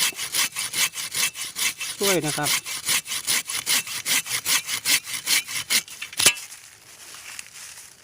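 Rhythmic back-and-forth strokes of a curved hand saw biting into bamboo inside a clump, close and steady, with a brief spoken phrase and a sharp crack near the end.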